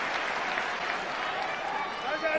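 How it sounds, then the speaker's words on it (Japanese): Steady applause from a wrestling crowd for Naomichi Marufuji during a NOAH title match against Tatsuhito Takaiwa, a continuous broadband wash of clapping with a commentator's voice running over it. "大きな拍手が送られています。"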